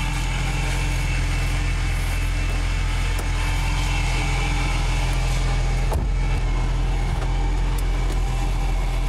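A car engine runs steadily with a low, continuous rumble and no talk, loud and close, with a single brief knock partway through.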